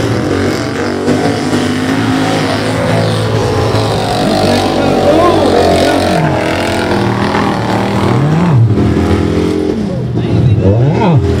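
Race cars, Mayfly against Mo Money, roar loudly and continuously, engines droning with rising and falling revs, while people talk over the noise.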